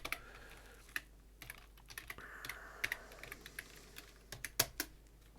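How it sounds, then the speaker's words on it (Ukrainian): Keys on a computer keyboard are tapped in short, uneven bursts while a search term is typed under Garuda Linux, quiet, close clicks with small pauses between them. "І ось в пошуку пишемо там, до прикладу, там."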